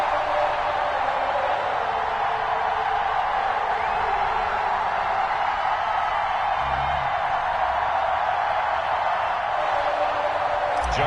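A stadium crowd at an NFL game in a football video game roars as a steady, dense wall of noise, with a commentator talking over it.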